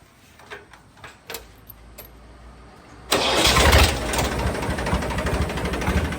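After a few faint clicks, a tractor engine cranks and catches, then settles into a loud, rough, steady running rumble.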